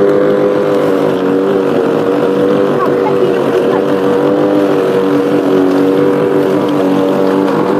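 Huter GLM-420LT petrol lawn mower cutting grass on its first mow, a loud steady engine drone running close and continuous throughout.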